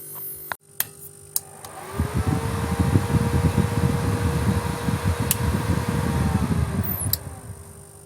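A Schweis ST-250 welding inverter's cooling fan spins up after a few sharp clicks of the relay and switch, then runs as a steady, loud whooshing hum with a faint high whine. It winds down near the end with another click.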